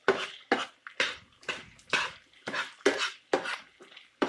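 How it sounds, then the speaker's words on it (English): Shrimp and pasta being mixed together in a pan for homemade Alfredo, with a steady run of short scraping and clattering strokes of a utensil against the pan, roughly twice a second, close and fairly quiet. "you add the shrimp, and then you add your pasta, and then you mix it all together"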